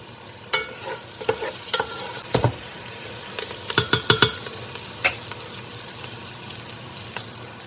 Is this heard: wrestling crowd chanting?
no